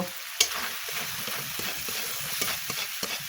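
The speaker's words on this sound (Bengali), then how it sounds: "মাছ ভালো করে কষানোর জন্য আমি আরও একটু পানি দিয়ে দিলাম ভালো করে নেড়ে নিয়ে ঢাকনা দিয়ে ঢেকে দুই মিনিটের জন্য কষিয়ে নেব" River prawns being stirred and fried in a pan, a steady low crackle and sizzle with scraping stirs and one sharp knock near the start, no voices.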